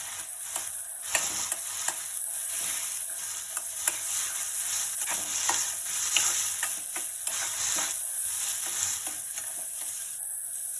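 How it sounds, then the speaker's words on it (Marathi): Onion, coconut and garlic roast in hot oil for a chole masala paste, a steady close sizzle broken by repeated scraping strokes of a spatula against the pan, with no voices. "कांदा, खोबरं, लसूण, तेलामध्ये भाजून घ्यायचं."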